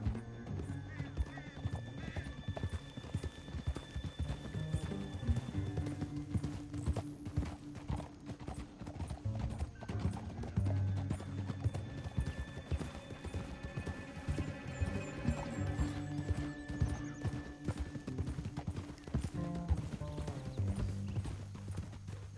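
Horses gallop in Red Dead Redemption 2, a steady rapid clip-clop of hooves with occasional whinnies and rattling tack, heard beneath game music and ambience.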